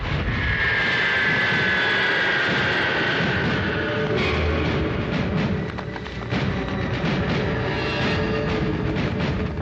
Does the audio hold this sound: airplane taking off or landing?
yes